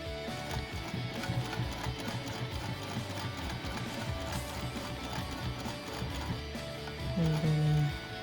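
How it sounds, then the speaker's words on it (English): A sewing machine stitches binding onto a vinyl pouch, running slowly around rounded edges with a steady mechanical whir and rapid ticking needle beats that continue throughout, with a louder burst near the end. "I'm just taking my time and going slowly around these rounded edges."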